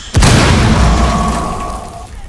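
A breach charge detonates in Rainbow Six Siege, a sudden loud boom with a heavy low rumble that decays over about two seconds, with a faint ringing tone lingering in the tail.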